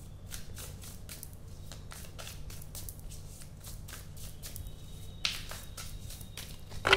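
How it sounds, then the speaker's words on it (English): Tarot cards are shuffled steadily by hand, giving a rapid run of crisp, papery riffling flicks and slaps close up, without talk. "This is the good shuffle"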